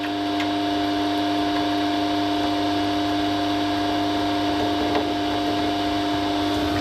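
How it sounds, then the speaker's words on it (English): An electric pump draws honey during commercial-scale extraction, giving a steady, continuous motor hum with a constant whine that holds level throughout, with no talking. "The pump kicks on. Honey now is being sucked"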